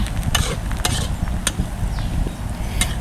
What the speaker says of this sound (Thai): ผัดให้ใบเหลียงสุกนะคะ